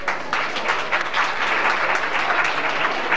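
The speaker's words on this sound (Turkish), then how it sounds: "Hani bu kadar mı alkış Sayın Öksüzoğlu'na?" Steady applause from an audience at a traditional village association evening in December 1995, dense and continuous clapping filling the room throughout.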